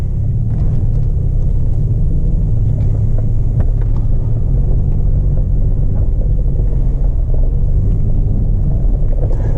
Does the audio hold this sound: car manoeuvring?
yes